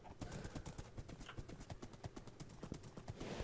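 Horse hooves clip-clop steadily in Minecraft, a quick continuous run of even hoofbeats at moderate distance with no talk over them.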